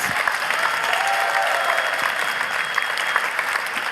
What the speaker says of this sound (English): can I get a big applause for Martin Goroshko and Heidi Kakko